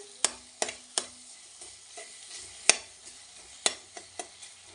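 Jaggery being stirred into tomato chutney in a pan, a spoon knocking sharply against the metal several times at irregular intervals over a faint, quiet simmer.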